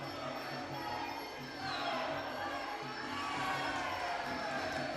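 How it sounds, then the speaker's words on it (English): Crowd at an IFMA world championship fight in Antalya, Türkiye, a steady roar of cheering and shouting in a large hall that swells louder partway through, with faint voices mixed in. "You can hear the crowd cheering on their fellow countrymen"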